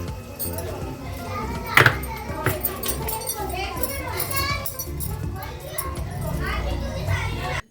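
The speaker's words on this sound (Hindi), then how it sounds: "गली में बच्चों का शोर चल रहा है।" Children play and shout out in a street, a busy stretch of overlapping young voices with occasional clinks and a sharp knock, heard from indoors at moderate distance throughout.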